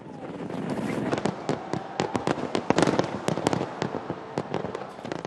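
Fireworks bursting over a seaside promenade at a New Year's celebration in Agadir, Morocco, with sharp cracks and bangs firing in rapid irregular succession over a steady crowd murmur.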